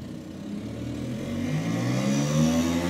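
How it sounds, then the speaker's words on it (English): A Vespa scooter with a large aftermarket exhaust pipe revs up, its engine note climbing steadily in pitch and growing louder over a few seconds, nearby on a city street with no talk. "that's a Vespa with a giant fucking pipe on it"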